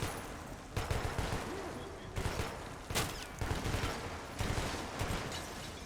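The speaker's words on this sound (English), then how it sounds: "Stop shooting. You're gonna kill yourself." Bursts of gunfire from Metro 2033 Redux, several rapid volleys at irregular intervals with loud sharp onsets, heard alongside faint speech and game ambience.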